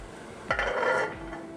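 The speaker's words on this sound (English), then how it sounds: "I'm going to put the lid on" A metal lid goes onto a cooking pot of chicken, lime and potato curry with a single clanking contact, followed by a brief ringing scrape as it settles, quiet and close.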